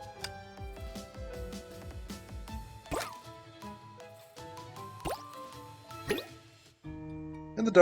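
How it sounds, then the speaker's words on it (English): Holy spring water splashes in the Honkai Impact video game as a series of crisp, close drips and plops over a soft musical backing, sparse at first and then landing in separate bursts. "I'll throw the Holy Spring water in."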